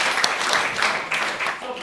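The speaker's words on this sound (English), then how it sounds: "round of applause for Sir Tom Gray" An audience at a school Threepenny Opera production bursts into loud, continuous applause for a performer, with clapping filling the whole short stretch.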